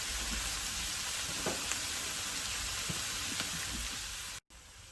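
Peas and mixed vegetables saute in a pan over medium heat for fried rice, making a steady, soft, close sizzle with a few faint stirring scrapes and no talking.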